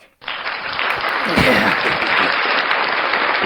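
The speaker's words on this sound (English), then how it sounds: "I will allow the round of applause for Miss Maddy" A round of applause for Miss Maddy starts abruptly and holds steady, mixed with cheering and voices talking over the clapping.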